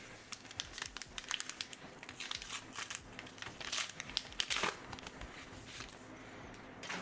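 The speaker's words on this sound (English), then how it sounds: "let's start ripping packs" Trading card packs are torn open by hand, with dense crinkling foil wrappers and sharp ripping bursts in a busy, close, continuous stretch, with no talk over it.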